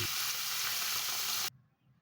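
Cencaru fish with sambal frying in a pan over moderate heat, a steady loud sizzle that cuts off abruptly after a second and a half, leaving faint low clatter.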